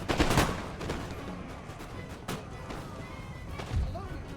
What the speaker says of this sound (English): our musketmen are able to shoot over them along with the cav